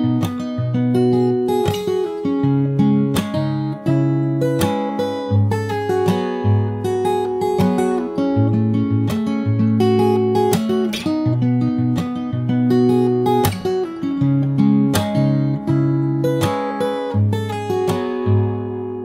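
Fingerstyle acoustic guitar plays the chorus of a song, with plucked bass notes, melody and percussive accents in a steady, loud, close rhythm and no voices.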